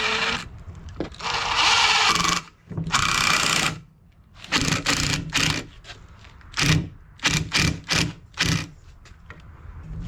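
A powered driver sends screws into 2x4 construction lumber for a bed frame, close by: long whirring runs at first, then a series of short, sharp bursts with brief pauses between them, and no talking.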